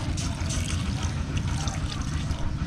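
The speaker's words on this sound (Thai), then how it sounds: "เทน้ำลงไปอีกทุกคน" Water poured into a pot of wild-game meat soup cooking in a rural Lao kitchen, a steady close trickling and splashing that continues throughout.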